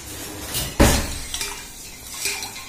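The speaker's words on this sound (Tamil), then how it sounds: "கலக்கி எடுத்துக்கலாம்." A single sharp metallic clink of utensil against a pot while stirring pani puri water, followed by a few softer scraping knocks over quiet room noise.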